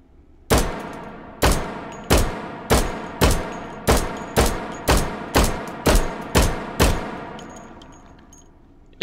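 Pistol shots from an H&K USP Match double action pistol in a shooting game, eleven sharp reports fired one by one at a steady, slightly quickening pace, loud and close with no talk.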